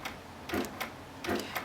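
A Handi Quilter Sweet Sixteen sewing machine stitching basting stitches about every three-quarters of a second, with soft rhythmic thumps of the needle repeating evenly over a steady motor hum, close up.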